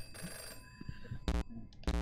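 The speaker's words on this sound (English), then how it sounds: "Go answer the phone!" Electronic telephone ring in the video game Knuckle Sandwich, three short bursts spaced apart, bright and loud against soft game music.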